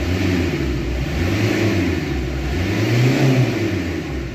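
A 1.5 Renault Kangoo diesel van engine with a whistling-noise and power-loss fault revving steadily, a loud low rumble that rises and swells slightly, heard up close with no voices.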